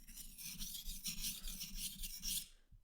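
A knife is sharpened on a Suehiro whetstone of rougher grit, the blade rasping in steady back-and-forth strokes, close and continuous for nearly three seconds before stopping abruptly.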